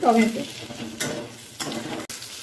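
Chopped tomato goes into a pan of fried onions for a ridge gourd, potato and onion curry, setting off a few bursts of frying sizzle with stirring and scraping, fairly close and with no talk.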